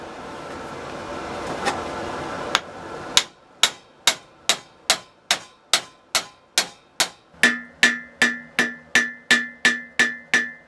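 Hammer striking a drift punch held in a vise, a few scattered taps, then a long run of loud, evenly spaced metallic blows with a ringing clang toward the end.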